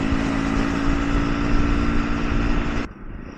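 Triumph Scrambler 400 motorcycle cruising at about 70 on a windy freeway, with steady loud engine drone and wind roar that suddenly drop off near the end.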